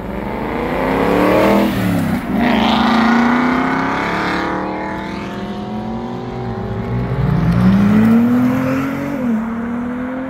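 Ferrari 296 sports car accelerating hard at a supercar meeting, engine note rising sharply through gears with a shift dip, loud and near, then climbing again as it pulls away.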